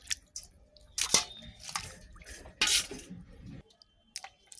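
Peeled vegetables being washed by hand in water, with splashy sloshing bursts and clinks of a bowl or pot, irregular and close, pausing between rinses.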